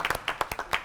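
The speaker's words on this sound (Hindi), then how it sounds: "आप तालियां बजाएं अपने लिए," A few scattered claps from a small studio audience on a grocery game show, quick uneven hand strikes in a short burst, fairly faint and close.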